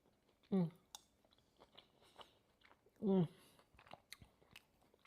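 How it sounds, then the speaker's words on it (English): Someone eating homemade rum and raisin ice cream: two distinct close wet bites or chews, separated by a few seconds, with faint clicks and mouth sounds between, fairly quiet overall. "So let's try this rum and raisin ice cream."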